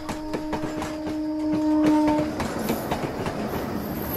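Passenger train arriving on rails, with rhythmic clickety-clack of wheels over joints and a sustained tonal whine, growing into a broad rushing roar as it draws near; no talking.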